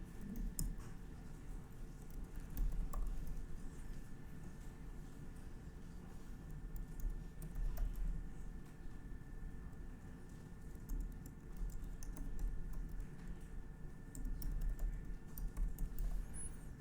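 Someone types on a computer keyboard with a quiet, steady stream of light key clicks in uneven bursts over a soft electrical hum.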